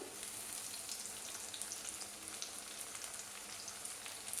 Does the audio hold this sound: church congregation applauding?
no